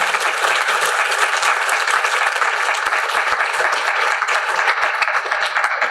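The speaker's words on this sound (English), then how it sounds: "let's give the color guard from the Muskogee Nation one more round of applause." Loud, sustained applause from a standing festival audience honoring the Muskogee Nation color guard, a dense even wash of many hands clapping that continues steadily without pause.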